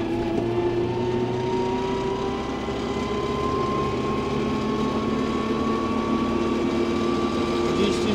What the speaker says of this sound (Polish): Testujemy prędkość maksymalną ciągnika Arbus 4110.